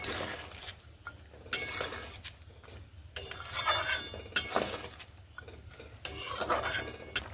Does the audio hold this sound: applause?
no